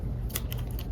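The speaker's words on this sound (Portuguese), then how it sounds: "Vou cortar esse fio aqui" Scissors snip chenille yarn during amigurumi crochet work, giving a few quick, close metallic clicks and cuts in under a second.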